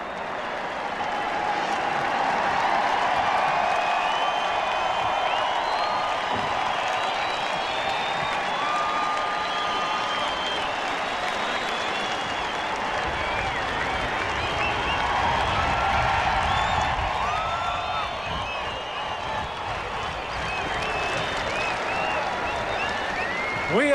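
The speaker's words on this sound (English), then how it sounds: "And listen to this tremendous ovation." A huge racetrack crowd of some 30,000 at Arlington International roars in a sustained ovation for Cigar at the 1996 Citation Challenge, loud continuous cheering and clapping that holds steady throughout with a slight surge midway.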